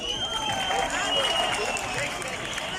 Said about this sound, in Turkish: Barış Gökdemir'i alkışlarla uğurluyoruz